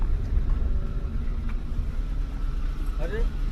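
A steady low rumble of vehicles passing over a bridge overhead, continuous and somewhat muffled, with voices talking nearby.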